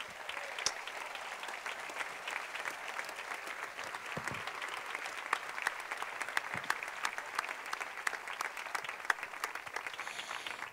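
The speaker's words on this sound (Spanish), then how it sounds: "quisiera pedirles un fortísimo aplauso para la producción Infinity Eventos y Producciones" An audience at a town fair concert gives sustained, even applause for the production team, a dense patter of clapping heard from a little distance that carries on throughout with no talk over it.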